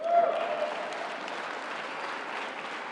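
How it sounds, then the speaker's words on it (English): An audience applauds steadily and fairly faintly throughout at a presidential speech on the economy and jobs, a continuous wash of many hands with no clear individual claps. "You can clap for that, man."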